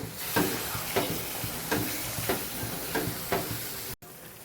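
Bitter gourd curry with gravy and a few spoonfuls of water is stirred in a pan, each spoon stroke scraping in a steady rhythm about every two-thirds of a second over a constant close sizzle, with no talking.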